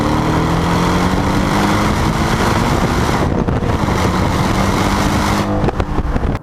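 A 2017 Porsche 718 Cayman S with its active exhaust valve open revs loudly and close by, a steady throaty engine drone with rising and falling pitch that eases briefly midway before building again.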